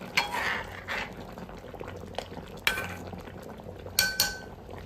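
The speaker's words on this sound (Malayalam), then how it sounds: "ചെറുതായിട്ടൊന്ന് ഇളക്കി കൊടുക്കണം." Fish curry with a splash of raw coconut oil stirred gently in a pot: soft bubbling underneath, punctuated by a few light spoon clinks and scrapes against the vessel, with no speech.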